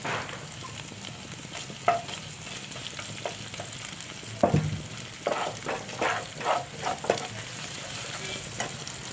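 Curry leaves dropped into hot oil for a Gujarati mung bean curry, crackling and sizzling close by in bursts of sharp spits and pops over a quieter steady hiss, with no talk.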